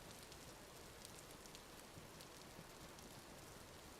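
Rain falling in the video game Vintage Story, a steady, quiet hiss of drops with faint patters, continuous and even throughout without speech.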